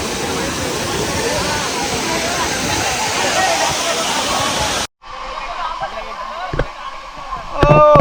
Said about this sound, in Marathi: आम्ही पोचलो या धबधब्यावरती आणि बघा पाणी कसं पडतं